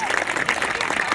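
Applause from an audience of parents and friends at a school music preview night, a dense steady wash of clapping lasting about a second, with some voices mixed in.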